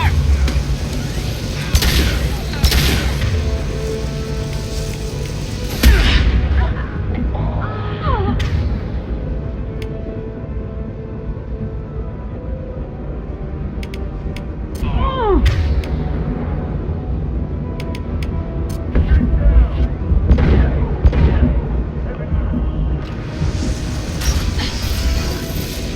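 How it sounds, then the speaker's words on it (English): Heavy gunfire and explosions from the Mass Effect video game form a dense, loud battle mix with booms, mechanical clatter and sharp bursts throughout. Voices can be heard over the combat. "Taking heavy fire!"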